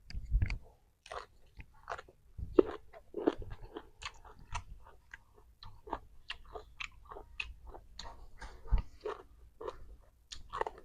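Close, steady chewing of crunchy, sweet boiled bamboo shoots, eaten with som tam and fish roe, with repeated wet crunches and bites in an uneven rhythm over nearly eleven seconds with no talking.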